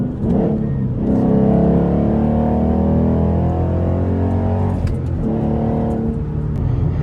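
A 2012 Ford Mustang GT with a Coyote V8 cruising in sixth gear, its engine giving a steady, loud low drone that holds alone through the clip with slight swells in pitch and no talking.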